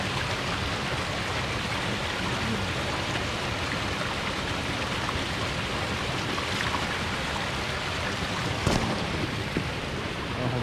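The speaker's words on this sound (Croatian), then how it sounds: "Evo, slapovi, voda svud oko nas." Waterfalls at the Plitvice lakes in autumn give a constant broad roar of falling water, loud and steady throughout with no talking.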